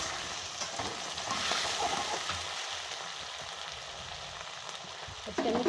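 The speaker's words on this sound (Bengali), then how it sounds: "আলুগুলো দিয়ে দিচ্ছি, একটু তেলে নাড়াচাড়া দিয়ে দেবো ভালো করে" Potatoes are stirred in hot oil in a pan, giving a steady close frying sizzle with scraping stir noises and a louder clatter near the end.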